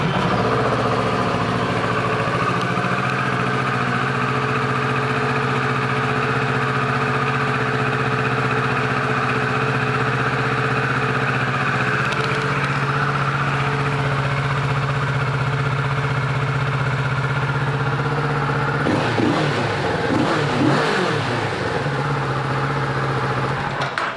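A 2017 Kawasaki Z650 ABS motorcycle idles steadily up close for a long stretch, its engine hum even and unbroken, with a brief rev-like swell and rattle near the end and no talk over it.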